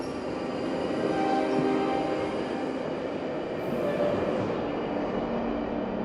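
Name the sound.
inside a moving train carriage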